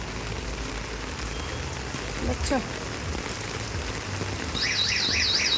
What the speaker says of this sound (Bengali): কেমন জোরে বৃষ্টি পড়ছে